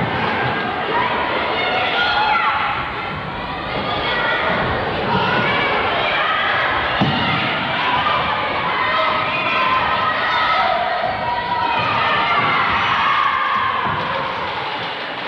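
Fans cheer at a school team competition during a visit by Swedish guests in Grodno, with a dense, steady crowd roar of voices and shouting that fills the whole stretch.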